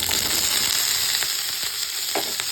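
Cauliflower sizzles and fries in hot oil in a pan on the stove, a steady close crackle with a few small pops and stirring clicks.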